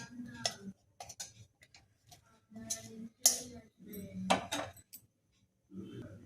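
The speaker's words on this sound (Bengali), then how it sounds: "শুকনো খোলায় আমি শুকনো লঙ্কাটা দিয়ে দিলাম। শুকনো লঙ্কাটা একটু নাড়াচাড়া করে নিয়ে" Dried red chillies are stirred in a dry pan, giving irregular scraping and clinking of a utensil against metal in short bursts with pauses between.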